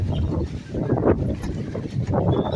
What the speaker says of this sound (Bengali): হাওয়া দিচ্ছে, প্রচুর হাওয়া দিয়ে।